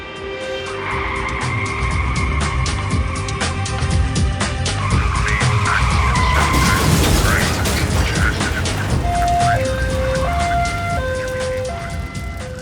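Car tyres skid at length in a loud, busy stretch with engine roar, a wailing emergency-vehicle siren cycling through its tones toward the end.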